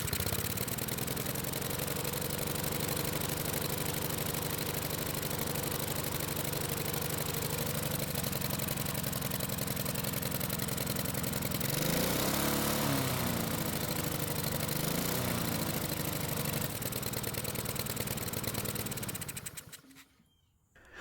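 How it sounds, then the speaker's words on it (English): A Husqvarna lawn mower engine runs steadily and loudly for a long stretch, its tone wavering and sputtering partway through, before it cuts out abruptly near the end. "What I'm going to do is start the engine and see what the choke flap does after starting."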